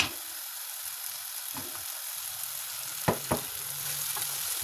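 Tomatoes frying in oil for liver pilaf give a steady soft sizzle and hiss, with a couple of brief clinks from stirring, close and fairly quiet with no talk.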